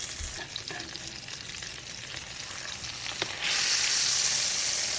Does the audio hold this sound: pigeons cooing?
no